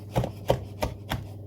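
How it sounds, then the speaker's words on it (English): Rosemary chopped on a cutting board with a sharp knife, four evenly spaced dull thuds in a steady rhythm, close and fairly soft, with a low hum underneath and no talking. "Rosemary is a bit hard to chop, so you need a really decent sharp knife in order to do this properly."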